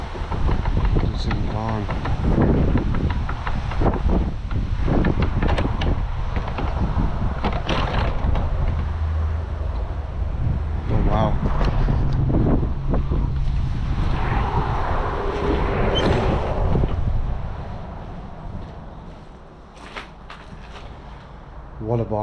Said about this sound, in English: The wind is so bad here